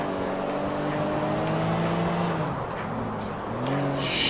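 A car engine revs and drones in Grand Theft Auto IV, a steady harmonic roar with pitch shifts as the vehicle speeds up and slows, ending in a brief hiss or skid.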